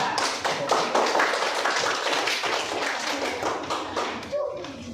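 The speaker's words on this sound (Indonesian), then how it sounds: "Tepuk tangan untuk kelompok 2." A classroom of elementary schoolchildren claps for a group of classmates, loud, close, brisk clapping from many small hands that thins out toward the end.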